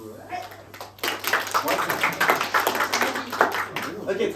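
Audience at an improv comedy show clapping to vote for a favourite theme, a burst of applause rising after a second and continuing steadily, with scattered louder claps near the end.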